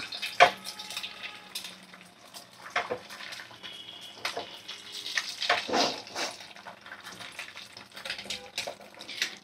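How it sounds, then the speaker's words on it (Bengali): Irregular sizzling and crackling bursts of beaten egg frying in hot oil in a wok over a medium gas flame, close and moderately loud, with sharp spits scattered throughout. "তো ডিমটা ভালো করে ভাজা হোক।"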